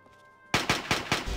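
Gunfire in Fallout 3: after a quiet moment, five sharp, rapid shots ring out close and loud in quick succession.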